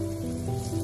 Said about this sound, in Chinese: 包菜下锅之后开大火快速的翻炒